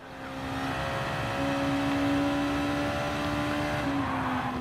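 Honda NSX at full throttle around Suzuka in Gran Turismo Sport, its engine holding a loud, steady high-revving drone with a rising pitch and a brief gear-shift dip near the end.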